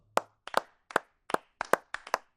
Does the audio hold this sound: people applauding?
yes